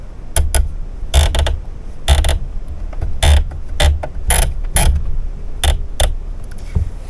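Brother starter sewing machine running through a test stitch, heard as a series of close, uneven mechanical clattering bursts with short pauses between them, no voices.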